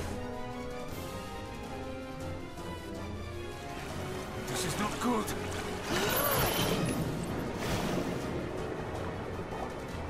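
Boat's engine room flooding in Resident Evil: Revelations, a rushing, churning wash of water that swells louder midway, with someone talking over it.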